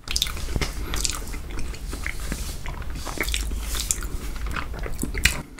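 Close-up chewing of an almond chocolate snack, crisp bites and crunches breaking through moist, squishy mastication sounds in an irregular rhythm, with no voices.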